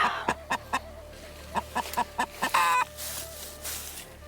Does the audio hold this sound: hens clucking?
yes